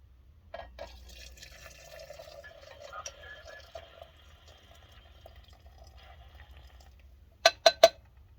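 Water trickles softly into a Guardian Service drippolator coffee pot outdoors, a faint, thin pour lasting several seconds, followed by three sharp metallic clinks close by.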